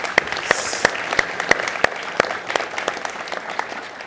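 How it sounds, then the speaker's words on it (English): Warm audience applause after a talk on gaming company culture and entrepreneurship, a steady crowd clapping with distinct nearby claps popping out at a regular beat, continuing for several seconds without speech. "please help me in giving a warm round of applause to Ilkka Paananen."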